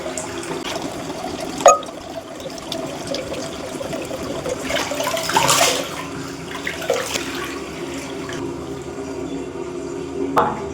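Tap water runs steadily into a sink during a face wash, a close continuous splashing with occasional handling clatters and brief louder surges.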